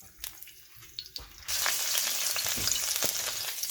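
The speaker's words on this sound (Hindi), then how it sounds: "गार्लिक को हल्का सा तेल में हम फ्राई करें।" Garlic hits hot oil in a pan for chicken pasta, a few quiet clinks and stirs giving way to a sudden, steady, close sizzle that continues to the end.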